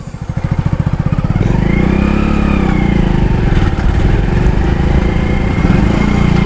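A Hero Honda Passion Pro motorcycle engine starts with quick chugging pulses, then settles into a steady, loud, close running drone with slight rises in pitch.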